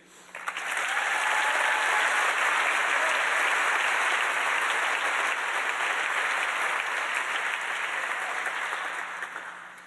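Audience at the 2016 Have a Heart benefit program breaks into a full, dense round of applause that swells quickly, holds loud and even for several seconds, then tapers slightly toward the end.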